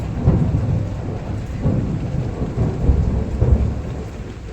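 Heavy rain pours steadily in a dense low roar, with deep rumbles rolling through it and no voices.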